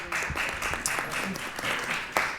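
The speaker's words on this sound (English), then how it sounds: "Please give them a round of applause." Brief applause for council members at a town hall meeting, a room of people clapping in a dense, even patter at moderate level for a couple of seconds, with some speech mixed in.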